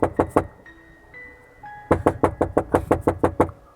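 Knocking on a wooden door as a sound effect in an audiobook, three quick raps, a pause with faint tones, then a longer insistent run of about ten sharp knocks, close and loud.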